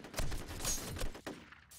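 A burst of gunfire in a video game, with rapid repeated shots and explosive cracks running for nearly two seconds, loud and close, before fading out.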